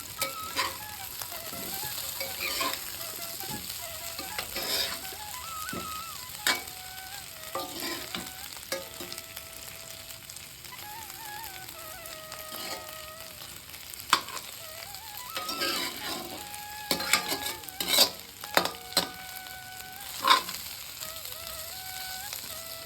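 Baby potatoes fry in a pan over a medium flame, a soft continuous sizzle broken by clattering scrapes and taps as they are stirred and turned.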